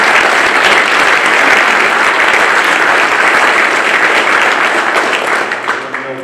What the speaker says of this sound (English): Just a round of applause to our